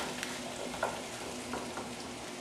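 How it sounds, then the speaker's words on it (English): Vegetables with minced garlic and garlic powder sauté in a pan over high heat, giving a steady dense sizzle with faint stirring scrapes, close and continuous, with no voices. "I have my heat on high. So we're going to let this saute for probably about 5 minutes."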